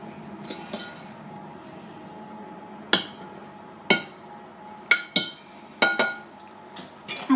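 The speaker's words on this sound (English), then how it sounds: "Mix your dough." Scone dough being mixed in a bowl, with a run of sharp clinks and knocks from a utensil striking the bowl, spaced irregularly over a faint steady background.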